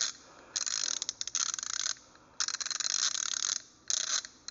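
A SATA half-inch drive ratchet with a clanky, unoiled mechanism, cranked in three bursts of rapid metallic pawl clicking separated by short pauses, close and fairly loud, with no talking.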